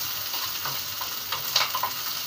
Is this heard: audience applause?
no